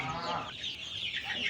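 Chickens clucking inside a farm house at a new farm in Purbachal, just fed rice husk, with several overlapping clucks nearby against a busy background.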